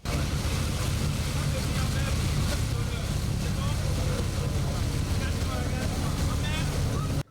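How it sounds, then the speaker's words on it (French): Motorboat engines hum steadily on open water during a sea excursion off Benin, a constant low drone mixed with wind buffeting the microphone and the wash of waves, with no break in the noise. "se bercer du son frileux produit par le bruit des moteurs au contact de l'eau"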